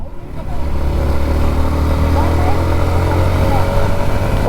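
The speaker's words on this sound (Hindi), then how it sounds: "अरे भाई मेरी बाइक जा रही है" A motorcycle engine drones steadily and fairly close on a road, its low, even hum holding at a constant level throughout.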